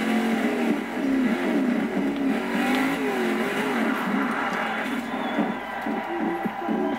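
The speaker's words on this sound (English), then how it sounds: "This is an off-road car." Off-road car engine in Forza Horizon 2, a loud continuous growl whose low pitch rises and falls with revving while driving, steady for the whole stretch with no voices.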